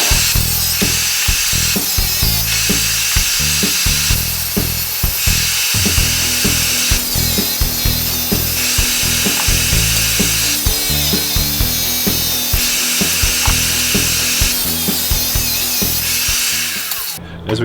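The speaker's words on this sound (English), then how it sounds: "we got the XP4 Dewalt blade in here. We're going to go ahead and make some cuts and see how it performs." Tile saw fitted with a DeWalt XP4 diamond blade cutting through tile, a loud continuous high-pitched whine that rises and dips as each cut bites and eases, heard up close with no talk.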